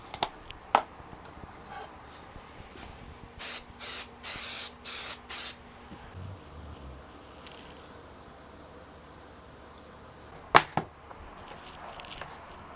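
Five quick bursts of 3M yellow glue activator sprayed onto a guitar neck during a scratch electric-guitar build, close and loud in a quiet room, followed later by a single sharp click.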